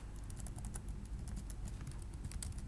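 Rapid typing on a computer keyboard, a steady patter of light key clicks running throughout at close range with no voices.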